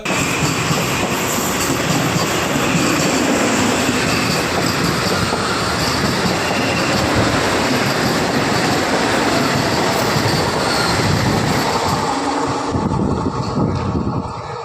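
A Vande Metro train on its trial run between Chennai and Katpadi rumbles past close by, loud and continuous, with rolling clatter and squealing wheels, tailing off slightly at the end.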